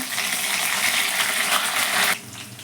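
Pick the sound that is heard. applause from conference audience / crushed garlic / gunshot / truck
crushed garlic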